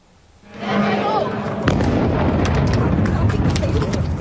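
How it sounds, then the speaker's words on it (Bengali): A heavy missile strike explosion near the US consulate in Dubai erupts into a sustained roaring rumble with crackling bursts, loud and continuous, like a distant blast recorded on a phone. "ভয়াবহ বিস্ফোরণে প্রকম্পিত মার্কিন কনসুলেট"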